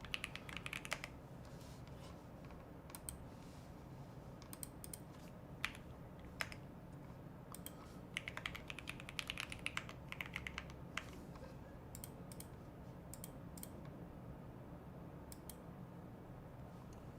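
Fast, continuous typing on a computer keyboard during a timed speed-typing round, a steady close patter of key clicks with occasional louder strokes and no voices.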